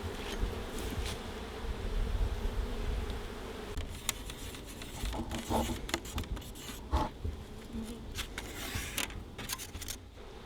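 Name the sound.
honeybees buzzing at the hive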